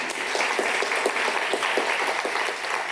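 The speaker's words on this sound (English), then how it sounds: "Can we give our council president a round of applause?" Audience applause for a council president at a legislative oversight committee hearing, a dense patter of many hands clapping at close range, steady for about three seconds before easing slightly.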